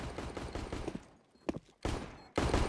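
Gunfire from a competitive CS:GO match, loud bursts of rapid shots that drop into a brief lull, then return as a single crack and more heavy bursts near the end.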